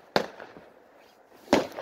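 Two sharp firework explosions about a second and a half apart on a firework night, each a loud crack with a short crackling tail, fairly close by.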